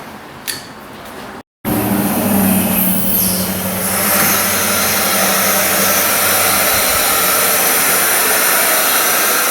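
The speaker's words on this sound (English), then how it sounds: "I want to start a vacuum on the system here" A vacuum pump evacuating the A/C system of a Chrysler Town & Country clicks on and settles into a loud, steady, unbroken whirring drone close by.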